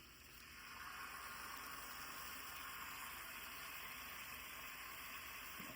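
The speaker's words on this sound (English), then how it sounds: "Hear that sizzle." A steady, quiet hiss of chicken sizzling on a hot barbecue grill, continuous and without talking.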